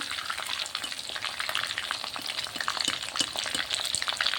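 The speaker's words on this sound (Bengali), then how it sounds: "এবার মাছগুলো এক এক করে ভেজে নেবো।" Fish frying one by one in hot white oil in a wok, a continuous bright sizzle with crackling pops and occasional stirring, close up and without talk.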